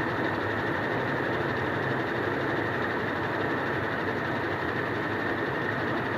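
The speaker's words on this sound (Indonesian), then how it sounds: "kalau masih ada brebetnya kayak gini berarti belum pas" A running engine whose carburetor is not yet properly adjusted gives a loud, steady, rough drone with a slight uneven sputter that runs unbroken throughout, with no voices.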